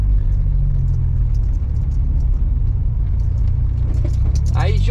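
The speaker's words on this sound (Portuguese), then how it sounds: "Mas o carro que tem uma suspensão aí top, que acaba facilitando aí as curvas com um pouco mais de velocidade" Car taking road curves at speed on a drive around the north zone of Sorocaba, a steady loud low engine and road rumble running throughout, with a voice speaking over it near the end.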